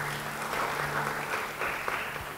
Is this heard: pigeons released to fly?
no